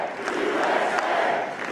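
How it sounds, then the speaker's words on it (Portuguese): Election-night crowd at Trump's victory speech chants "USA, USA" in unison, a steady, dense roar of many voices filling the hall without a break. "O público grita USA, USA,"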